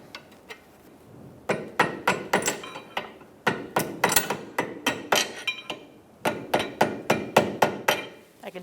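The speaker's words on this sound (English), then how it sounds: "I can gently tap it with my rubber mallet and a punch if the ball joint's really stiff" Rubber mallet striking a punch against a ball joint on a 2014-2019 Kia Soul lower control arm, sharp repeated taps coming in three quick bursts of several blows each, close and clear.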